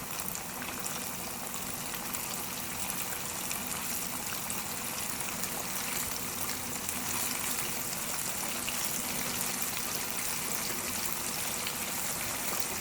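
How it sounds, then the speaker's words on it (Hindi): Chicken broast frying in oil over a medium flame, a steady dense sizzle and bubbling hiss that holds evenly throughout with no talking. "ऑयल बहुत ही ज़्यादा गर्म नहीं होना चाहिए, बहुत ज़्यादा मीडियम फ्लेम पर हम फ्राई करेंगे।"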